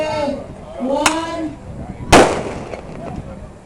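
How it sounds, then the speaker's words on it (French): A single sharp cannon boom cracks out mid-clip at a hydroplane race course, signalling five minutes before qualification, ringing briefly over a man's speech and background chatter; an earlier, fainter pop precedes it. "c'était le coup de canon de 5 minutes avant le départ de cette qualification"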